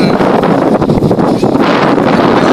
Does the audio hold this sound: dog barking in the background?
no